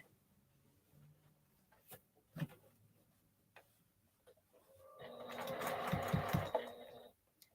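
A sewing machine stitches a baby cape in a quick, close burst of rapid mechanical clatter that comes after a few soft clicks and handling noises in a quiet room.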